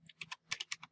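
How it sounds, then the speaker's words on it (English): A computer keyboard tapped with a quick run of about seven light keystrokes while entering a number, close and soft, with no speech. "I'll type my number again."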